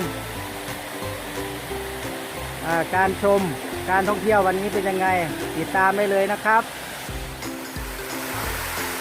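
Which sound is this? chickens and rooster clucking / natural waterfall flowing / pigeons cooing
natural waterfall flowing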